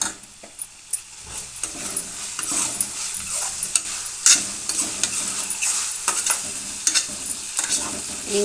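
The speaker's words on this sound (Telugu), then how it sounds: "బాగా కొంచెం ఆయిల్లో కొద్దిసేపు బాగా వేపానండి" Mushrooms frying in a little oil with curry leaves and ginger-garlic paste, stirred in a pan: steady close sizzle broken by repeated scraping stirs and light clinks of utensil on pan.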